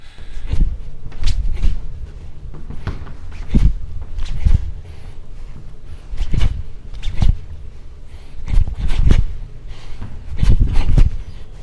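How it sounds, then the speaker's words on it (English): Soft, irregular clicks and muffled knocks of bones moving in the body, spaced a second or two apart with quiet rustling between them. "what you're hearing is the bones moving"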